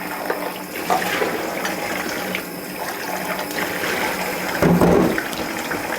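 Tap water runs steadily while food is washed, a continuous close splashing gush with a brief louder burst near the end, no talk.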